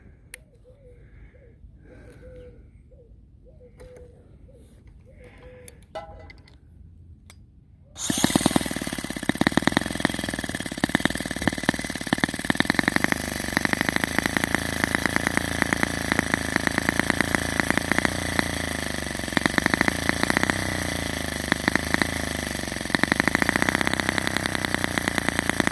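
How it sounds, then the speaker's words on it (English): A Deutz 122 F gasoline garden locomotive engine starts after some quiet handling noises, then idles loudly with a steady, rapid chugging that continues without pause. "Let's start the engine."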